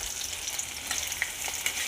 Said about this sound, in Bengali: এবার আমি পেঁয়াজগুলো সব দিয়ে দিচ্ছি আর ভেজে নিই।